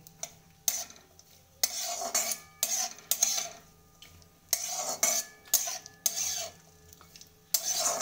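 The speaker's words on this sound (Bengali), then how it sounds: "দিয়েছি ঘিয়ের মধ্যে, এবার একটু কিশমিশটাও দিয়ে দেবো। বেশিক্ষণ ভাজবো না, হালকা নাড়াচাড়া করবো।" Raisins fry in ghee for carrot halwa while a spoon scrapes and stirs the pan in irregular close strokes, with a faint sizzle underneath and no voices.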